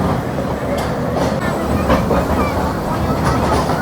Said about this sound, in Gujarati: મિત્રો હવે છે ને જો ટ્રેનની રફતાર થોડીક વધી છે જોજો